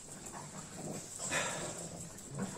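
A Boston Terrier whimpering as it is lifted under the front legs, a thin, faint whine rising and falling over a couple of seconds, close by.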